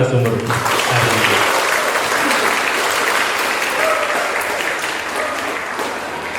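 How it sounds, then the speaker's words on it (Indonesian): An audience at a public speaking session at a college claps for the guest speaker, full and sustained applause that gradually tapers off toward the end. "Tepuk tangan dong untuk narasumber hari ini."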